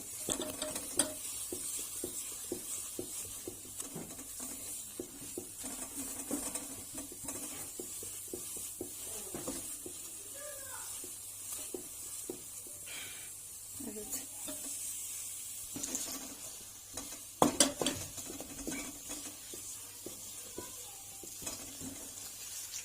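Flour is stirred constantly in a pot over low heat while making halva, producing irregular soft scraping and faint sizzling, with a few sharper clinks of the utensil against the pan.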